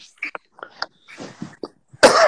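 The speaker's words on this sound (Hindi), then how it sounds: "आपके खांसी होगी" A person coughing, with several short rough bursts and throat sounds in quick succession, ending in a louder harsh burst.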